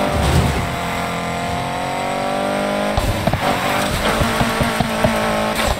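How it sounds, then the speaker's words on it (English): A game car drifts during a mission: an engine roars and revs steadily, and then tires squeal and skid with choppy bursts in the second half, all loud and close. "Still time for one good drift"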